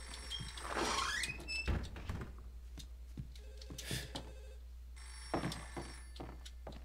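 A telephone rings in the Underhell video game, with repeated bell trills and some clunky movement and door-like sounds around it, fairly close and loud.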